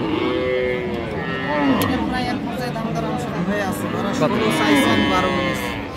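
Cattle lowing at a busy Bangladeshi livestock market, Raniganj haat, where Sahiwal bulls and calves are sold; repeated moos overlap with people talking and crowd babble throughout.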